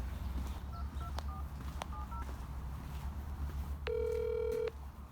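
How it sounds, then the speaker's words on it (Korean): A quick series of beeping phone keypad tones as a call is dialed over steady background noise, followed by a longer buzzing line tone before it cuts off without connecting. "인지한테 전화해야지"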